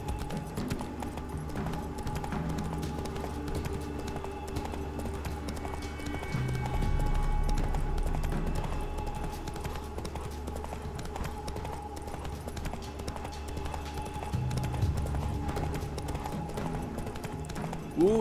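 Roach, Geralt's horse in The Witcher 3: Wild Hunt, gallops in a steady clip-clop of hooves that runs throughout against the game's background score, with a brief whinny near the end.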